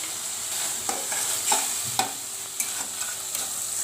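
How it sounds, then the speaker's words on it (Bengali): Spice paste of ground cumin, chili powder and ginger-garlic paste fries in oil for a chickpea biryani, with a steady sizzle and repeated spoon scrapes against the pan, close and fairly even, no voices. "জিরা বাটা দিলাম, মরিচের গুঁড়া দিলাম, তেল, মশলাটা তেলের উপর উঠছে"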